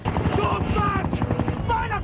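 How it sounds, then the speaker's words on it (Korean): A helicopter from the drama Lost approaches a ship, heard as a fast rotor chop with a steady throb under a voice speaking over it. "잭 일행이 연료 없는 헬기로 구조선에 접근"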